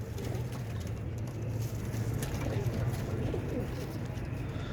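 Pet pigeons coo softly in a loft, low repeated burbling calls overlapping against a steady background hum, with no talking.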